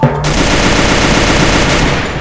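Rapid automatic gunfire in the mobile shooter Free Fire, a loud continuous burst of shots that runs unbroken after a brief opening sound, with no talking over it.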